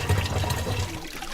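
Fresh water flowing at a village water source fed from a mountain borehole in rural Rwanda, a close, steady gushing and splashing stream heard briefly on its own.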